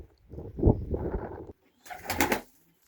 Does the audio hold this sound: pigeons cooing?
yes